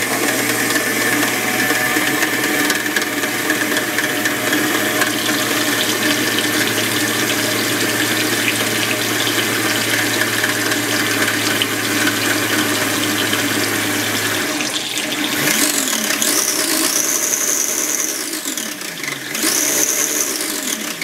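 A cold water tap runs continuously and loudly near an RC car setup being tested for waterproofing, a steady rushing stream with a low hum that drops away partway through, with no voices.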